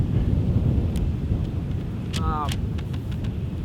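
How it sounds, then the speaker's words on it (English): Wind buffets the microphone with a constant low rumble and roar, and a brief voice-like sound rises faintly through the noise. "It's really windy. I don't know if the audio is going to be that great."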